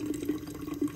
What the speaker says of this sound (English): actually putting water inside the balloon